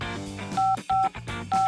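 A phone keypad beeps three times as a password is entered to unlock the phone, short evenly spaced tones over soft background music.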